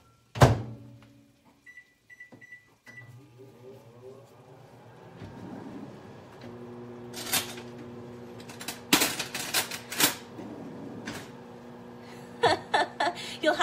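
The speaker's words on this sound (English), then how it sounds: "So let me go ahead and melt it in the microwave real quick." A microwave oven melting cream cheese in a home kitchen: a loud thunk of the door, beeps from the keypad, then a low steady hum as it runs, with clatters and clunks of kitchen handling in the background.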